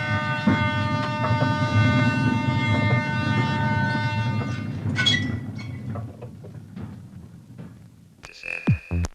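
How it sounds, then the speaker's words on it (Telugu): A train approaches with a loud, sustained horn and rumbling rail noise that gradually fades, followed by a few sharp high tones at the end. "నా టైం బాగుంది కాబట్టి ట్రైన్ ఈ రోజు కరెక్ట్ టైంకి వస్తుంది"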